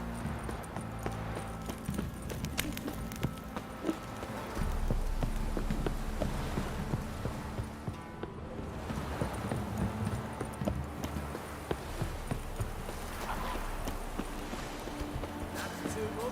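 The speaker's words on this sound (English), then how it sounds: "Like the way of looking around there for the horse." Horse hooves clip-clop at a steady walking rhythm in The Witcher 3 video game, moderately close, with game voices speaking over them.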